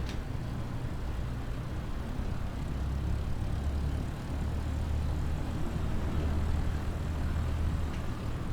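Light aircraft engine idling before takeoff in Microsoft Flight Simulator 2020 at a bush airstrip in the Okavango Delta: a continuous low, rumbling propeller drone, steady and fairly loud throughout with no talk.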